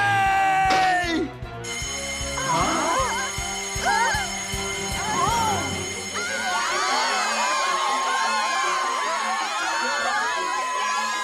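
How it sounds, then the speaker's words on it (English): A shrill emergency alarm bell rings continuously through a cartoon school science lab, loud and sustained, while children shout and cry out in alarm over it. "Nagasawa pushed the emergency button."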